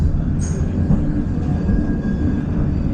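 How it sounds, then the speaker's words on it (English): The Lookout Mountain Incline Railway car, the world's steepest passenger railway, rumbles steadily up the mountain with a loud, continuous low-pitched roll and faint mechanical whine, heard from inside the car. "thank you for riding the Lookout Mountain Incline Railway"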